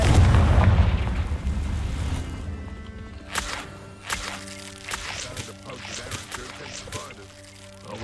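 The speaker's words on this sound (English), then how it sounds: "Confringo." A Confringo fire spell in Hogwarts Legacy erupts with a heavy booming blast at the start, then the rumble fades under sharp crackling pops and a sustained game music tone.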